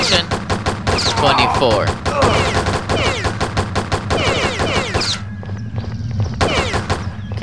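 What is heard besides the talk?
gunshots in the Postal video game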